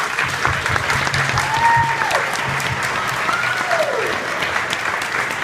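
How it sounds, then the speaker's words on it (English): Wedding guests give the Wagner family a lively round of applause, dense steady clapping throughout with a few whoops rising above it. "Let's have a round of applause for them."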